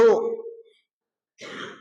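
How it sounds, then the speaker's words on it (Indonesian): A short vocal burst, like a cough or throat clearing, followed by silence and then a breathy exhale. "Eta batuk."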